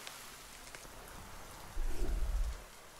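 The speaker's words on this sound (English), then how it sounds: "It's raining as well, which is amazing." Game rain from Deiland Pocket Planet falls as a soft, steady patter over the fields, and a low rumble swells in partway through, like distant thunder.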